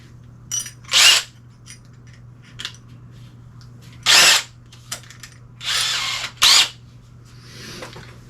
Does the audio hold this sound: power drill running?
yes